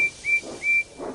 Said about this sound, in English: Percy whistled loudly.